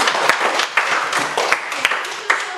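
A class claps hands together in a short burst, a dense mix of many close, bright claps with a few louder accents, continuous for a couple of seconds.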